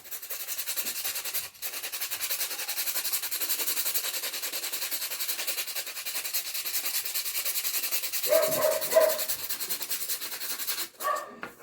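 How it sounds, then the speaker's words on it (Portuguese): Continuous fine sandpaper rubbing over filler on a figure, a quick hissing rasp close by, with a brief break early on and a faint dog bark in the background later. "É uma lixa fininha, própria para lixar a massa corrida"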